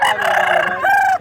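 A big-bodied Arita rooster about a year old crows once, loud and near, a hoarse drawn-out call with a rising final note, at a poultry expo.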